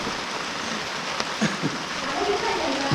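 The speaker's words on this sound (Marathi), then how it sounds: "पाऊस बघ केवढा आला" Steady heavy monsoon rain hisses across the whole clip in a Konkan village, with a few louder splashes and faint voices in the background.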